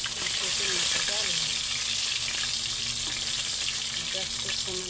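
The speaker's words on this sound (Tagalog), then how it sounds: "Madali lang mag-prito." Fish and chicken pieces fry in hot oil, a continuous close sizzle with occasional stirring and faint voices talking in the background.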